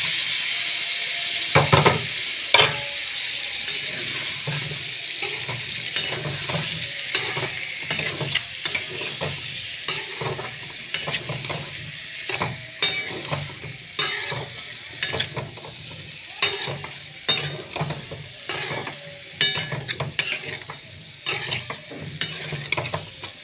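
Whole potatoes fry with spices in a pan for a Bengali aloo dum, giving a steady close sizzle broken by frequent scraping and clacking as a spatula stirs them.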